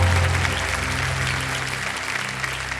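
Studio audience applauding on the KBC game show set, a steady dense wash of clapping that carries on without a break from start to finish, with a faint hum running low underneath.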